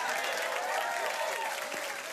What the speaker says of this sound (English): The applause sign works.